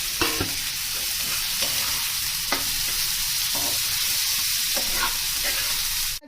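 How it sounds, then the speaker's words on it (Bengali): Onion, garlic, chilli and ginger fry in hot oil with a constant close sizzle, broken by a few scraping stirs of a spatula in the pan. "প্রথমে পেঁয়াজগুলো দিয়ে দিচ্ছি, পরে রসুনটাও দিয়ে দেব, লঙ্কা, আদা সব দিয়ে দিলাম একসঙ্গে। এবার এগুলো ভাজা হতে থাকুক।"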